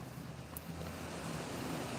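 Strong gusting wind outdoors during cold-weather fishing, a steady broadband roar buffeting the microphone for the whole moment, with no clear gaps or voices.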